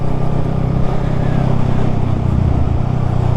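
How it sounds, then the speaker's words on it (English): The exhaust of a 2019 Honda Rebel 500 rumbles in a loud, steady low drone while riding in traffic, continuous and close throughout. "Obviously the exhaust is a really good tone and quite a good volume"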